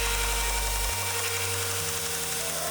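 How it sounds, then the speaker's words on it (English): Belt grinder running at a steady high whine while grinding a plunge grind into a knife blade made from a shotgun barrel, the motor tone shifting slightly as pressure changes, loud and continuous. "I'm grinding in the plunge grind."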